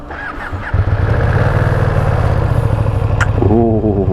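A Ducati Streetfighter V2 955cc V-twin engine fires up and settles into a loud, lumpy idle close to the listener, with a brief rev near the end.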